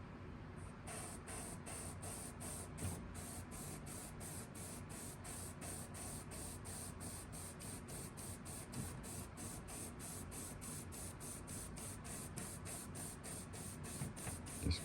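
Spray gun hissing steadily as it lays thin orange ink onto a chartreuse perch fishing lure, a continuous close airy spray with faint rapid pulsing running the whole time, with no talk over it.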